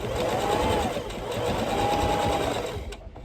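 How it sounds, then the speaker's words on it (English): A sewing machine back stitching over elastic on a superhero face mask, a fast, loud, continuous motor whir with a rising and falling pitch that stops abruptly near the end. "Back stitch over the elastic, removing the pin."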